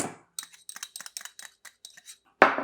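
A spoon or whisk mixes egg yolk and canned pumpkin into a keto waffle batter in a bowl, with quick irregular clinks and taps against the bowl. A louder clatter comes at the end, and nobody speaks.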